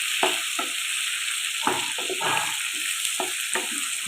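Pineapple halwa stirred in a pan, with repeated scraping strokes of a spoon through the thick sizzling mixture over a steady frying hiss, close up and without talk.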